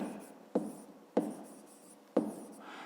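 A pen writes by hand during a fifth-grade maths exercise on rectangle area, giving a soft continuous scratching with three sharper taps at regular intervals, close and quiet, with no talk.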